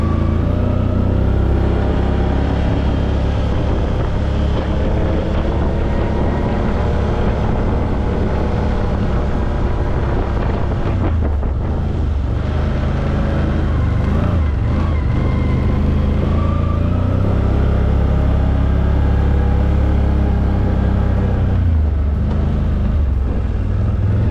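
2022 Can-Am Outlander 850 Max XT ATV in 4x4 mode, its engine droning steadily and close throughout while the tires churn through washed-out ground, with a brief dip in load partway through.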